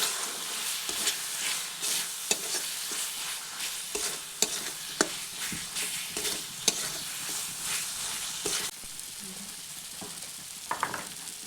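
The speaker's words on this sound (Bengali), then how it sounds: "এরপর এই মশলাটিকে আরও কিছুক্ষণ কষাবো" Spice mix of vegetable masala and coriander powder being stirred and sautéed in a pan for a Bengali new-potato curry, a steady close sizzle broken by frequent sharp scrapes and clicks of the spatula, with no talking.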